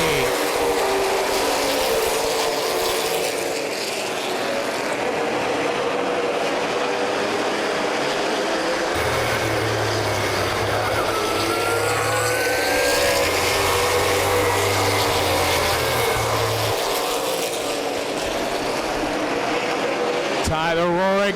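CRA Super Series stock cars roar around Plymouth Speedway at the start of the Summer Championship 125, a steady loud engine drone throughout with the pack's pitch shifting as it passes, under continuous announcer commentary.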